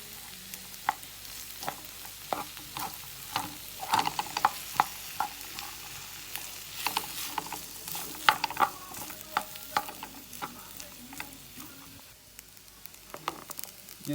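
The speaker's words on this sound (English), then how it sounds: "Continue stirring until the grains are coated with the oil." Rice grains being stirred in hot oil for Jamaican fried rice, with a steady low sizzle and repeated scraping, clattering strokes of the spoon against the pan, close up and with no talk.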